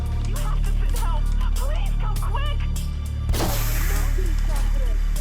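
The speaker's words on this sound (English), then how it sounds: "Okay, he's blowing shit up." Explosions boom amid chaotic action in Watch Dogs, a dense rumbling barrage with one heavy blast near the middle, while people talk over the noise.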